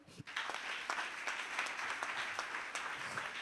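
A congregation at a church sermon applauds, a dense, steady wash of many hands clapping that fills the whole stretch without pause.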